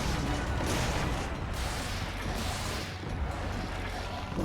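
Light bowgun fire in Monster Hunter against a Glavenus, a dense continuous barrage of rapid crackling shots and mechanical clatter amid loud battle noise, with no clear breaks.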